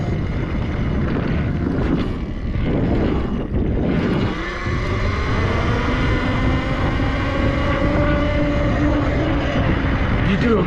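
Wind buffets a microphone outdoors beside a Talaria Sting R electric bike, with steady loud rumbling and roaring that persists throughout, drowning out nearly everything else.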